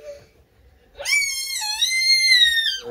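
A person voices an excited, high-pitched screeching scream by imitation, one sustained wavering shriek of about two seconds that rises suddenly after a quiet pause and then cuts off.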